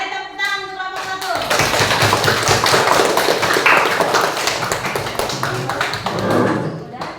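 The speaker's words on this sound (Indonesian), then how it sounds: "Ayo tepuk tangan untuk kelompok 1." A classroom of students breaks into applause for a group, brisk overlapping clapping that starts after a brief pause and continues loud and close to the end, with voices mixed in.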